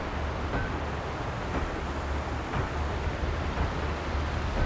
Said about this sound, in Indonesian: aliran air terus sama suara mesin apa, turbin airnya